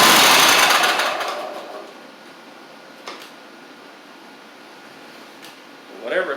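A two-year-old Troy-Bilt zero-turn mower with water in its fuel is cranked and fails to start. A loud mechanical churning burst fades over a couple of seconds into quiet background with faint clicks, then a short rise at the end.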